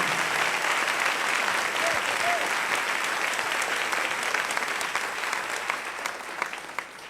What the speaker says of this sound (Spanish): Dale un aplauso al Rey en esta maravillosa y preciosa mañana.